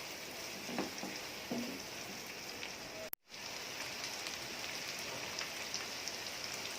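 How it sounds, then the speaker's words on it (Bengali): Shrimp coated in a little turmeric frying with onions in a pan, a steady close sizzle and crackle with a brief dropout partway through. "চিংড়ি মাছটাকে হালকা এটার মধ্যে ভেজে নেব পেঁয়াজের সাথে।"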